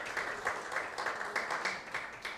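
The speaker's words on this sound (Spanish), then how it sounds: "Denle un fuerte aplauso al Señor" A church congregation claps along in steady rhythmic applause during a sermon, heard faint and somewhat distant.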